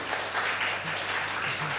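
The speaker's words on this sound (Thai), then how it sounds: "ขอเสียงปรบมือมิสยานาเตอร์นีครับ" Audience applause at a Thai talk about Finnish libraries and education, a steady wash of many hands clapping at moderate level, with a low hum underneath throughout.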